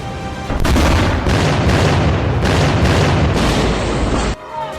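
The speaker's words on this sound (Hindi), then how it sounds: "अमेरिकी बॉम्बर्स ने दागे 6 बंकर बस्टर बमों ने अमेरिकी राष्ट्रपति ट्रंप का बारूदी संदेश ईरान को शोर के साथ सुना दिया" Six US bunker buster bombs detonate in a heavy, continuous barrage, with deep booms and blasts piling into one loud, rumbling roar for several seconds before it cuts off abruptly.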